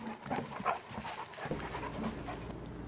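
A dog pants rapidly and close by on a camping trip, quick rhythmic breaths that carry on for a couple of seconds and then stop.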